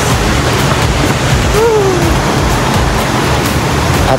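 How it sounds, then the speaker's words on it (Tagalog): Loud, constant roar of rushing water at Golden Waterfall in Taiwan, close and unbroken, with a faint whistle-like tone briefly rising above it. "Talagang napakaganda at napaka-relaxing yung tunog ng agos ng tubig dito."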